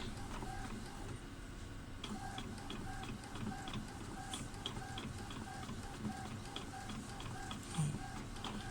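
An Epson printer runs a print job, its steady mechanical whir broken by regular clicking and ticking of the print head and paper feed, close and continuous with no talking.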